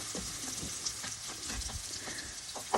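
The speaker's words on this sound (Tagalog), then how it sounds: "Tapos halo-haloin natin ulit." Pancit canton noodles stirred in a frying pan with melting butter, a steady close sizzle broken by scraping strokes and soft clacks of a utensil against the pan.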